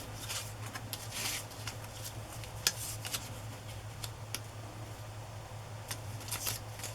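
Paper being trimmed with scissors gives a series of faint, crisp snips and light rustles over a low steady hum, alone and close by, with no talking.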